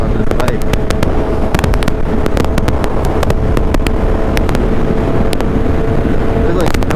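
Harley Sportster motorcycle riding on a highway, constant loud roar of engine and buffeting wind noise on the microphone throughout, with faint rattles and clicks on top.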